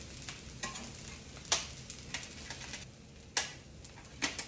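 Four eggs being scrambled in a pan with soy sauce and pepper, a steady sizzle of frying under irregular scraping stirs and occasional sharper clacks of the utensil against the pan, with no voices.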